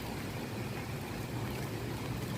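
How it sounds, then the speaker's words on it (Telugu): Heavy rain pours down outdoors, a dense, even roar that stays constant throughout with no voices. "ఓ పెద్ద వర్షం"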